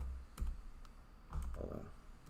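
Typing on a computer keyboard, a few faint scattered key clicks in short clusters, quiet and close in an otherwise still room.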